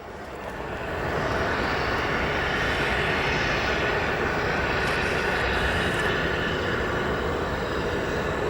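A jet aircraft overflies O'Hare Airport, its engine roar swelling in over the first second and then holding as a loud, steady, broadband rumble and whine, sustained and close overhead with no talk.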